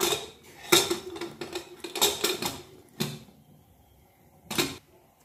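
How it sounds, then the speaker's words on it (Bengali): A metal pressure cooker holding mutton gets its lid put on: a close run of rattling clanks and scrapes, a pause, then one last sharp metallic clank. "কুকারের ভিতর দেওয়া হয়ে গেছে মাংসটা, এখন আমি ঢেকে দেবো।"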